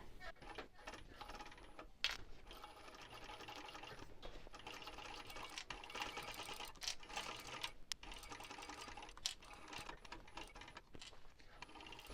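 A sewing machine runs in steady bursts while stitching fabric for a shoulder bag along a seam guide, with brief pauses and small mechanical clicks between runs, fairly close and moderately loud.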